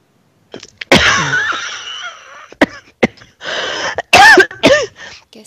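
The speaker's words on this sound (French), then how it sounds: "Je tousse." A person coughs several times in short, harsh bursts, close and loud, with brief pauses and throat sounds between them.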